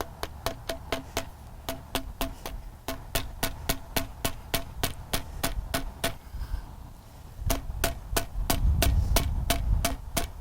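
Pipe adapter being tapped onto heat-softened pipe during a well cap installation: a long run of sharp, evenly spaced knocks, about three per second, close by over a steady low hum, no speech.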